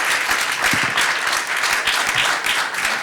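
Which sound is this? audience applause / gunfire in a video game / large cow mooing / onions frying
audience applause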